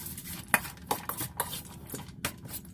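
Spoon stirring ingredients in a bowl, including black-eyed peas, while making wormwood glutinous rice dumplings: a series of light clinks and scrapes against the bowl, close and fairly quiet, with no talking.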